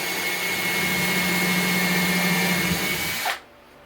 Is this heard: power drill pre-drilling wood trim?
yes